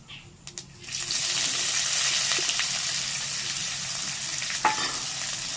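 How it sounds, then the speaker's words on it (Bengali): Chopped onions hit hot oil in a pan already holding bay leaf and whole cumin. After a few light clicks comes a sudden loud, steady sizzle that carries on, with occasional stirring scrapes and no voices. "পেঁয়াজটাকে একটু ভালো করে ভেজে নিতে হবে।"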